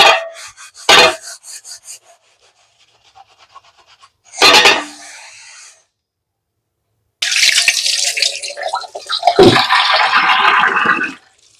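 A new cast iron pan being scrubbed and washed with a scrub pad at a sink: short scraping strokes, then a longer stretch of running water and rubbing, close and fairly loud.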